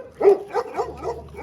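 A large shepherd dog lets out a short run of deep barks, close and loud, three or four in quick succession.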